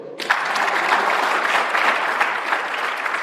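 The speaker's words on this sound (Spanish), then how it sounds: "Denle un aplauso al Señor." Church congregation clapping in praise during a Spanish-language service, bursting in abruptly and holding as a full, steady round of applause with no speech over it.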